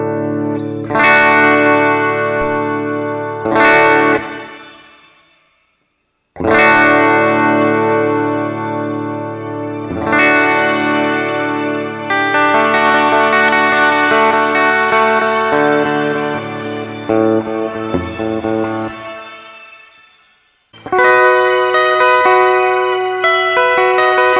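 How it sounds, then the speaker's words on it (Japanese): A SORAN TINY STOMP multi-effects pedal's shimmer reverb washes over electric guitar chords, each strum blooming into a loud, sustained, octave-rich halo that slowly decays between phrases. "リバーブ、ここにねシマーがあるんですよね。"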